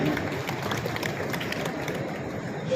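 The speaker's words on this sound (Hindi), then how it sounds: "आप सबके जोरदार तालियों के बीच मंच पर सादर आमंत्रण" Audience applause greeting a guest called to the stage at a public development event in Kanker, steady dense clapping at moderate volume with no talk over it.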